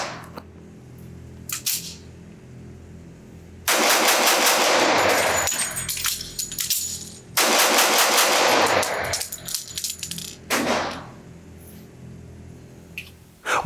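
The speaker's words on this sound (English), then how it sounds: "I'm curious how fast I can shoot with this trigger, get the gun back in action" A CZ 97B .45 ACP pistol fires in two fast, loud strings of shots, separated by a brief pause for a magazine change, with a few isolated clicks and handling noises before and after.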